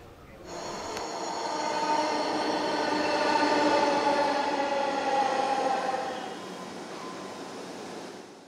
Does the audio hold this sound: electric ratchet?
no